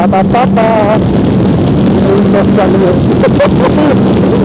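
In-car engine of a Caterham 270R lapping the Silverstone GP circuit, a loud continuous rising and falling drone buffeted by wind noise, with a voice briefly talking over it.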